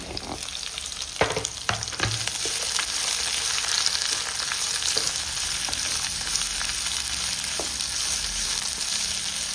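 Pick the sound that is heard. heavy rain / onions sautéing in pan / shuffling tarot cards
onions sautéing in pan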